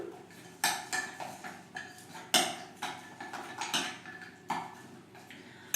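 Tuna cake batter being mixed in a bowl, giving a run of irregular clinks and scrapes of a utensil against the bowl, close and fairly loud with no talking.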